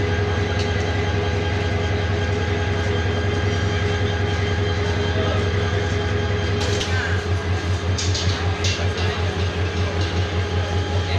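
A long train bound for Mymensingh runs past with a loud, continuous engine drone and rolling rumble, settling into a rhythmic wheel beat toward the end.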